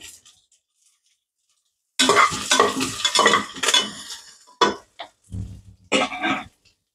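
Onions fried and stirred in a pan for Telangana-style bachali kura pappu, with a near, bursty stirring and scraping sizzle in several uneven spells, separated by short quiet gaps and a silent opening.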